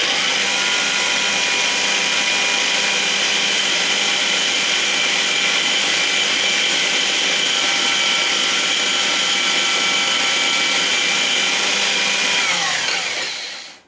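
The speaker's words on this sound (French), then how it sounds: "on va utiliser la petite râpe plate" A small flat rasp shapes a balsa wood nose cone spinning on a lathe, giving a steady, loud, dry scraping whir that runs unbroken for about thirteen seconds before stopping abruptly.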